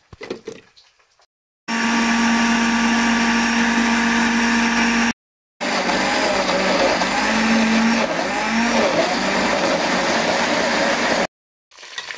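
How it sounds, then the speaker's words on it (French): A kitchen blender grinds garlic, onion, tomato, bell pepper and chili into a paste, a loud steady motor whir running in two long bursts separated by a brief pause. "Je vais tout mettre dans un mixeur et broyer."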